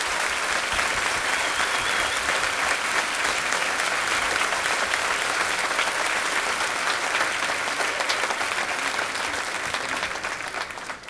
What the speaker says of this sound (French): Donc je veux que vous vous applaudissiez.